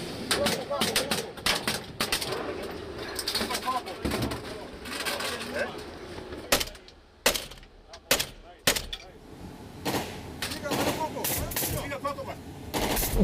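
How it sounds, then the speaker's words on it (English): Gang gunfire in Haiti's capital cracks around a vehicle: scattered sharp shots in bursts, some close and loud, with people talking throughout and birds cooing faintly. "Within minutes, we come under fire."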